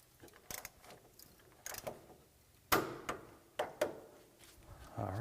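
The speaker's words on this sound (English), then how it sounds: "we're going to go ahead and torque all these" A torque wrench tightening the bolts that secure a wheel hub to the steering knuckle to 44 foot-pounds, giving a series of sharp metallic ratcheting clicks and clunks in uneven bursts, close in a quiet workshop.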